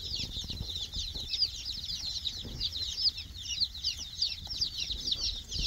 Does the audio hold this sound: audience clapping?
no